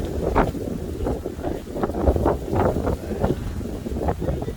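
Gusts of wind buffet the microphone outdoors in Japan in steady, rumbling bursts, loud and continuous with no voices.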